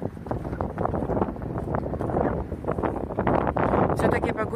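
Strong wind gusts across a hilltop at the historic Halifax fortress, a steady roaring buffet on the microphone that fills the whole stretch without pause.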